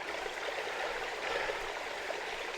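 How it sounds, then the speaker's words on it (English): A stream runs steadily beside a bike ride between Calstock and Cotehele Quay in Cornwall, a continuous close babble and trickle with no voices. "There's the lovely stream."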